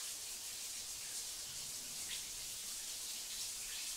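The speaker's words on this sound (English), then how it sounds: "Shower time." A shower runs in a video game, a steady hissing spray of water that stays constant and close throughout, with no talk.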